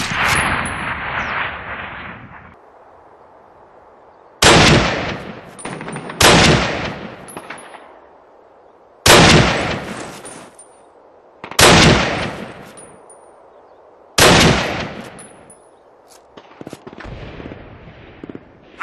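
Call of Duty gunfire: six loud, close bursts spaced a few seconds apart, each a sharp crack trailing into a ringing decay, with quieter ambient stretches between.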